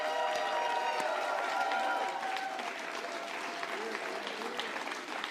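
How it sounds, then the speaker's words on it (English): A crowd on Canadian election night claps and cheers for campaign volunteers in Saanich Gulf Islands, a dense, loud burst of applause with scattered whoops that gradually eases. "So I just want to cheer."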